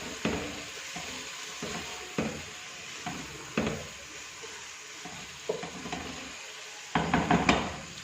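Green chillies go into a sizzling dhaba-style chicken handi, with a steady frying hiss and repeated rhythmic scrapes and knocks of a spoon stirring in the pot, close and fairly loud, with no talking.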